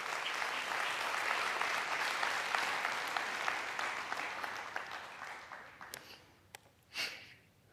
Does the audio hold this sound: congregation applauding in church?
yes